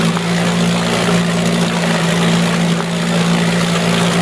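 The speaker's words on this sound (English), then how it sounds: "This is a solid running, good engine." A 1970s 4-horsepower Yachtwin outboard boat motor runs at a steady idle, its close, loud, even drone holding one unbroken pitch throughout with no misses or sputters.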